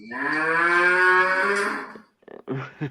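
A single long, loud cow moo sustained for about two seconds, followed by a few short, softer animal grunts, with no talk over it.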